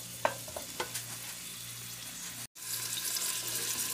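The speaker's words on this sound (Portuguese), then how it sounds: "Aí tô mexendo aqui o alho e a cebola, vou esperar ele ficar dourado" Garlic and onion sauté in a pan with a steady hissing sizzle, broken by a few utensil taps early on. After a brief gap the hiss returns louder and fuller. It is heard close, with no talking.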